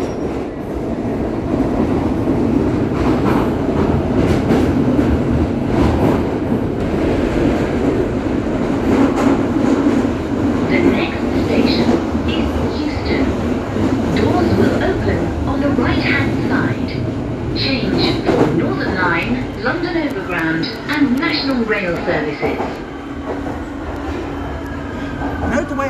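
London Underground Northern Line train rumbling and rattling steadily through a tunnel, with wheel squeals near the end and voices talking over the noise.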